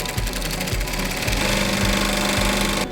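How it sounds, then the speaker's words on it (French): An industrial double-needle sewing machine stitches a reinforced trim binding around a slipper, its rapid rhythmic clatter running steadily and loudly before cutting off near the end. "pose d'un galon renforcé à la double aiguille, cousu du liseré tout autour du chausson"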